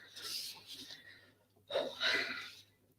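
A voice murmurs briefly, then after a short pause a sharp, breathy sneeze bursts out nearby, louder than the talk.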